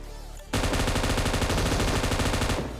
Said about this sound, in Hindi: इस बंदे पे मैंने पहले फायर करी